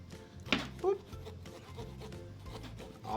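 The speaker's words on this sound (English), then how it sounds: "All I'm doing is just sawing a little circle right around." A small circle is sawn into a pumpkin in soft, quiet rasping strokes, with a couple of sharper scrapes, heard close up with faint talk around it.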